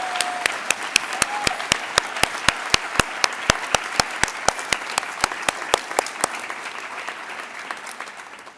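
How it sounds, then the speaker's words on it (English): At a county youth awards ceremony, honorees receive a round of crisp, evenly spaced claps in a steady rhythm of about three per second. The claps are loud and close and fade out toward the end. "let's give one more round of applause to all of our honorees and award recipients."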